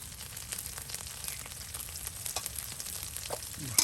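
Spice paste with chopped onion and garlic fries in hot oil, giving a continuous crackling sizzle with scattered sharper pops and a scrape near the end, no voices.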